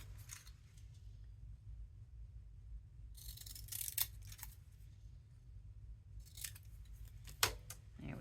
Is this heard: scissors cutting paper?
yes